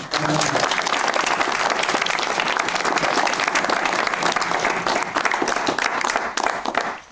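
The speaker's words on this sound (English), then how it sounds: "Big round of applause for our excellent panel." A conference audience gives a panel a sustained round of applause, dense, loud clapping from many hands filling the room evenly for several seconds before tapering slightly at the end.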